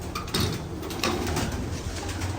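Low, throaty pigeon coos repeat steadily through a busy, fairly close background, with soft rustling and flutters mixed in.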